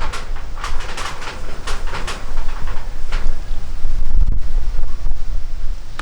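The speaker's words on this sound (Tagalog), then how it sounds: "Grabe, ang lakas ng hangin po dito." Strong wind buffets the microphone in gusty bursts outdoors, with faint bird calls and a distant surf-like wash in the background.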